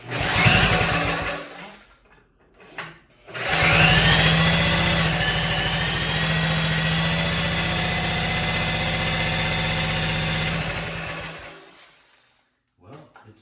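Small 1957 Wheel Horse RJ35 garden tractor engine sputtering to life and settling into a steady, loud running drone for several seconds, then cutting out, with brief bursts around it.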